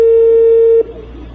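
A steady electronic telephone tone from a recorded call to a building's gate intercom holds loud and clear for nearly a second, then cuts off into faint line hiss.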